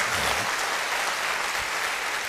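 Audience applause in a hall during a network marketing training session, a steady continuous wash of clapping held at an even level throughout.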